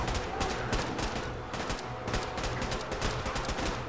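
Continuous gunfire in the video game Fallout 4, a steady stream of rapid shots with a constant mechanical drone underneath, moderately loud and unbroken throughout.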